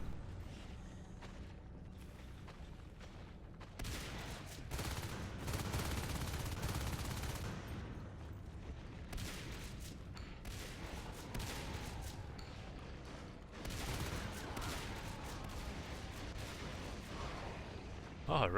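Shotgun fire in the video game Natural Selection during a competitive match, with repeated booming blasts and rapid bursts of gunfire layered over constant battle noise, while a commentator talks over the action.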